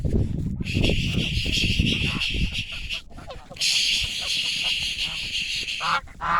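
A flock of geese honk loudly and repeatedly in two long noisy bursts with a short break between, the chorus close by over low outdoor rumble at pasture.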